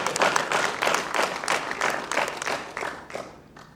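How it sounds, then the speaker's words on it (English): Conference audience applauding together in a hall, a dense sustained wash of clapping that holds steady and then thins out toward the end. "Let's give ourselves a round of applause."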